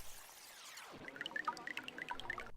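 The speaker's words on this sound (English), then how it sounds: "Water drips in as people are born." Drops of water fall into a glass, first a brief pour and then a quick series of bright, ringing plinks, quiet and close with no voices.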